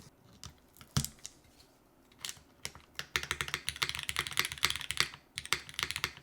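Typing on an ORI CLS-3/65 top-mount hot-swappable mechanical keyboard fitted with milky yellow switches: sparse keystrokes at first, then a dense, steady run of sharp clacks close up, with no talking.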